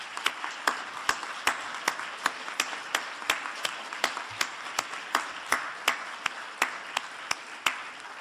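An audience at a children's rights conference keynote claps to thank the event organizers, a steady run of sharp, evenly spaced claps with a lighter wash of applause beneath, moderately loud and fairly close.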